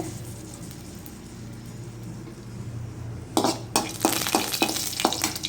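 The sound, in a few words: mustard seeds and chili frying in oil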